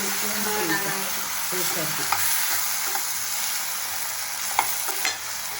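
Carrot and bean poriyal with grated coconut stir-fried in a pan, giving a steady close sizzle broken by occasional scraping and stirring clinks throughout.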